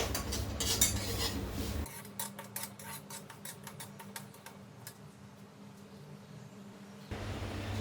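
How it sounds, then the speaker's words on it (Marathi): A spoon scrapes steadily through semolina (rava) dry-roasting in a kadhai, making a close run of quick, rhythmic scratchy strokes over a low background hum. "सारखं हलवत राहायचं आहे लागायला नाही पाहिजे"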